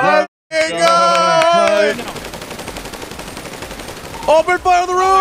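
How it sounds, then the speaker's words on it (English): Gunfire in GTA NoPixel roleplay rattles out as a long, dense burst of rapid shots, sitting between stretches of music and voices at moderate loudness. "Oh, shots fired at Clean Manor!"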